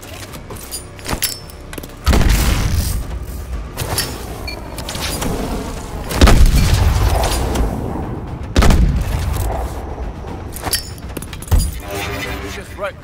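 Grenade explosions during grenade training in Call of Duty Advanced Warfare, several loud booms and crashes spread across a busy game soundscape with a voice speaking between them.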